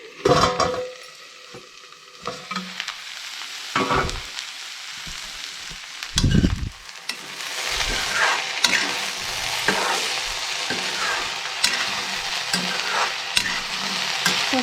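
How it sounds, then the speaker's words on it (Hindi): Okra (bhindi) curry frying in a pan, with scraping stirs and clanks of the spoon early on, then a steady loud sizzle with intermittent stirring strokes. "तो यहाँ पे मेरी भिंडी की सब्ज़ी बन रही है।"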